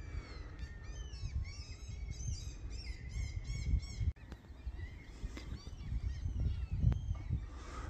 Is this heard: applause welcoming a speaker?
no